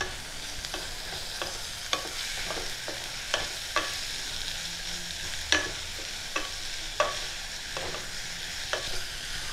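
Tomatoes, grated ginger and garlic fry in a pan for mutton stew, a soft steady sizzle punctuated by repeated sharp scrapes and taps of a stirring spoon, close and with no talking.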